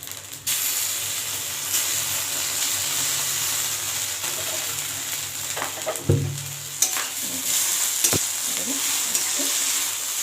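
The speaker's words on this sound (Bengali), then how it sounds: "তারপর দিয়ে আমি এবার নাড়াচাড়া করে নেব এবার একটু আমি সস দিয়ে দিলাম" Chowmein with sauce frying in a pan as it is stirred, a steady loud sizzle with clanks and scrapes of the spatula, and a few brief sharper knocks toward the end.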